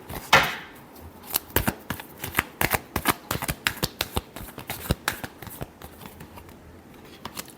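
Tarot cards shuffled by hand in quick irregular riffles and taps, close and fairly soft, with no voices.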